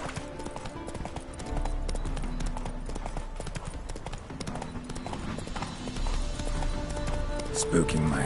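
The horse Roach trots in the video game The Witcher 3, its hooves clip-clopping in a steady rhythm alongside game music and ambient sound, with a voice speaking over it.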